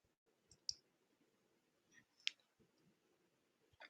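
A few faint, sharp computer mouse clicks, about three or four spaced through a quiet room.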